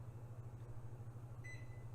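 A powerful microwave oven runs with a low, steady electrical hum and faint background whir, followed near the end by a brief high electronic beep tone, quiet and without talking.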